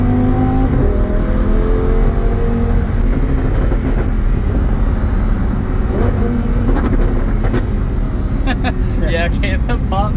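A Lamborghini Huracan with a titanium HMD exhaust roars and climbs through the revs close by, loud and steady, with sharp crackles near the end, while people talk over it.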